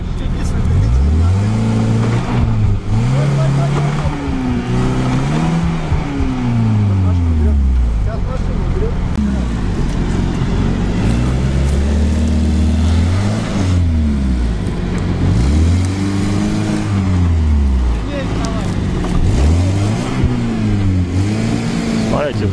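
Mitsubishi L200 pickup stuck in a diagonal hang off-road, its engine revving loudly and repeatedly in rising and falling surges throughout, with people talking over it.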